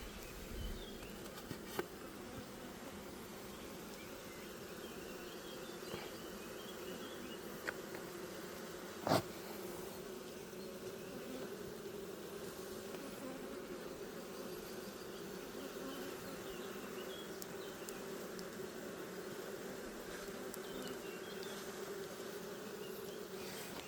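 Honey bees hum softly at a hive just after being smoked, a steady, faint, continuous buzz with a couple of small knocks and no voices.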